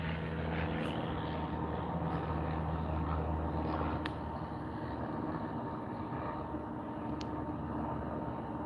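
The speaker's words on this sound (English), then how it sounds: "there's planes flying over now, small planes, literally directly overhead, taking cameras" Small low-flying planes passing directly overhead outdoors, a steady droning propeller hum that holds throughout, with a few faint ticks and no talking.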